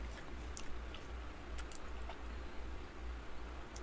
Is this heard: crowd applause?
no